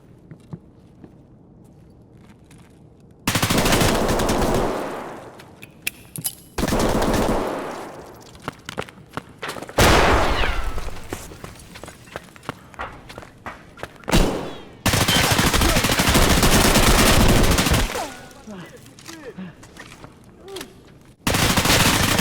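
Gunfire in the video game Escape From Tarkov: loud, close bursts of automatic fire lasting a few seconds each, separated by quieter gaps with footsteps and small clicks.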